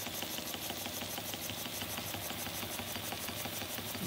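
An early Empire B-30 single-acting toy steam engine runs close by with a steady, rapid chuffing hiss that keeps an even rhythm throughout, with no voices.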